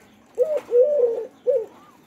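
Pet doves coo up close in three soft, rounded calls, with a brief pause before the last one.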